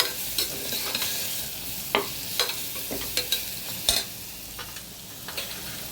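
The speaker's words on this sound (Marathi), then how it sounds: "आणि धण्याची पावडर हे तेलावर असं जरा थोडंसं भाजून घ्यायचं" Coriander powder with a little turmeric roasting in hot oil while being stirred, a steady close sizzle broken by repeated scraping strokes of the spoon against the pan, with no voices.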